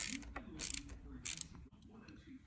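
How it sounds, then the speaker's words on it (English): A small 1/4-inch ratchet with an 8mm socket loosens a bolt holding a brake reservoir on a 2008 Kawasaki Ninja ZX10R, giving three quick bursts of close, faint clicking pawl strokes followed by quieter handling noise. "Using a small 1/4-inch ratchet and an 8mm socket for this."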